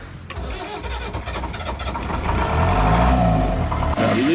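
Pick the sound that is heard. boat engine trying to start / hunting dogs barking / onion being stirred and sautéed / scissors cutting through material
boat engine trying to start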